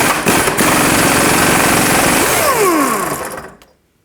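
An impact wrench or power ratchet with an 18mm socket runs loud and steady on a rusty fog light mounting nut of a 1998-2011 Ford Ranger, whirring continuously for about three seconds before winding down and stopping.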